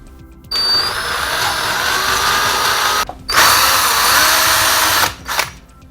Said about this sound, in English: I need to re-drill some holes to mount the transformer with the screw mounts.